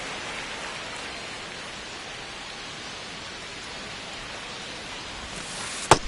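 Steady rain falls on the baseball field in MLB The Show 25, a constant even hiss with a short sharp click near the end and no talk.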